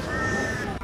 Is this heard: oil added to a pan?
no